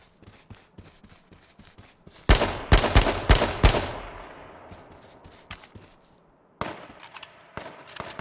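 Gunfire from other players in the battle-royale game H1Z1 King of the Kill: a loud burst of several rapid shots, then a ringing decay, a quieter pause, and a few more scattered shots near the end, with no talking.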